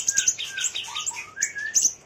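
Oriental magpie-robin chicks chirp and tweet in quick, high-pitched bursts, overlapping at close range with no voices.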